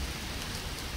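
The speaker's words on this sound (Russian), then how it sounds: "Маня, опять дождь пошел, кажется." Rain falling or dripping from trees outdoors, a dense, steady patter that is close and even throughout, with no talking.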